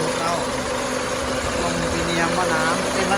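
A car's 2.5-litre engine idles steadily with a low, even rumble, close and loud, while someone talks over it.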